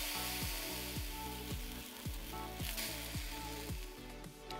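French toast frying in a pan with coconut oil, a steady close sizzle under a repeating low thumping beat of background music, with no voices.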